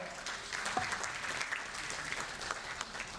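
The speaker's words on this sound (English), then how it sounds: "Can we have a huge round of applause for her?" An audience applauds steadily as a female panelist is welcomed onto the stage at a panel discussion on generative AI in financial crime control; the dense clapping continues for the whole stretch without talk.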